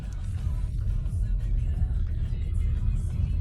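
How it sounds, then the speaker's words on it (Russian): A 2017 Kia Stinger driving over bumps with a repaired sunroof, heard from inside the cabin as a steady low road rumble with soft thumps and no rattles. "Вот я еду по кочкам."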